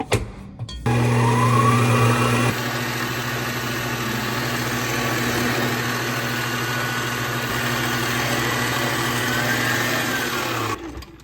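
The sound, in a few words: stand mixer creaming butter and sugar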